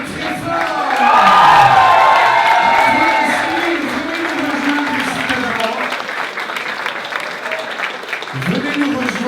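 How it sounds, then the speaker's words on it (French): A crowd applauds and cheers loudly at a live event in a French-speaking venue, with whoops and shouts over steady clapping that swells early and then eases, while an announcer's voice carries over the noise. "je vous demande de les applaudir très fort"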